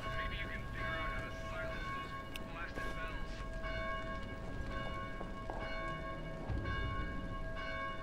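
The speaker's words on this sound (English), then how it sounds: "Somebody stop those bells." Church bells ringing in the zombie game Dead Island, repeated metallic tolls with long overlapping resonance, heard steadily through a low rumble of game noise and a voice talking.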